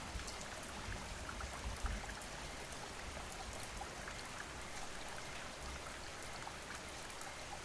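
Steady rain falls in a constant dense hiss of droplets, soft and even throughout with scattered faint patters and no voices.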